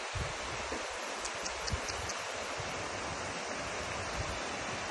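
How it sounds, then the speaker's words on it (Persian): A river of salty brine flows out from a salt mountain, heard as a constant broadband rush of running water, steady and moderately loud throughout with a few faint crackles on top and no voices. "این رودخونه ای از نمک، آب شوری که از اینجا میاد"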